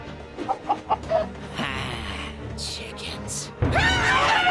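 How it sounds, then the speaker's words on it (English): Cartoon chickens in a LEGO superhero animation cluck in a few short bursts near the start, followed by a sustained whoosh and a louder burst of noise at the end, with a voice speaking briefly in between. "Chickens."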